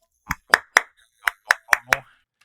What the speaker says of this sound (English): If I remove the vocals, this should isolate the claps.